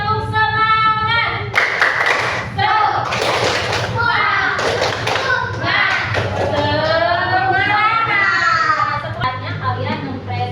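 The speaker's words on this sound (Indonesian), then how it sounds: "biar kita semangat, tepuk semangat terlebih dahulu" A classroom of children performs a rhythmic spirit clap, bursts of patterned clapping alternating with chanted and sung voices, close and lively, with a steady low hum underneath.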